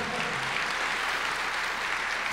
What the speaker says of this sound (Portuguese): dar uma salva de palmas para Jesus, pessoal, mais forte